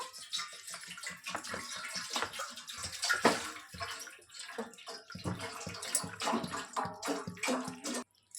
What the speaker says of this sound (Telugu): ఇక్కడ నేను ఒక బౌల్ని తీసుకున్నాను ఇందులో ఫ్రిడ్జ్లో నుంచి తీసినటువంటి చల్లటి నీటిని వేసుకుంటున్నాను